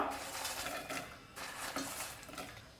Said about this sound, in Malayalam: ഈ പോപ്കോണില്ലേ അത് ഇതിലേക്ക് ഇട്ട് കൊടുക്കാം